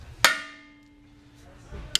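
Single sharp metallic hammer blow on a hand impact driver to break loose a brake screw on a Land Rover Discovery Series II, a bright ringing strike that decays, then a second fainter knock near the end.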